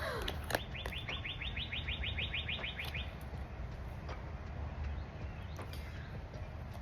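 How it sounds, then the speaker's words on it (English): Songbirds chirp outdoors, with one bird giving a quick, evenly spaced run of bright chirps before scattered single calls continue over a steady background hum. "Sorry, I'm getting distracted with the birds."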